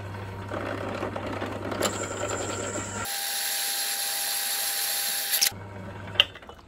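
A power drill bores a pilot hole for a Hi-Lift jack mount on a Pajero, whirring steadily for a couple of seconds, close by, with clicks and handling clatter before and after.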